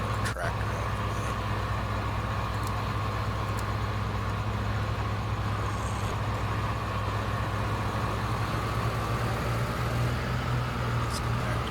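A tractor engine drones steadily while driving on a farm during a harvest with a combine, a constant low rumble close by with faint clatter over it and no talk.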